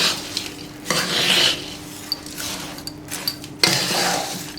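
Ground sugar is worked into a warm urad flour ladoo mixture with gond in a pan or bowl, soft scraping and stirring in bursts with a few light clinks of a spoon against metal, close and fairly quiet.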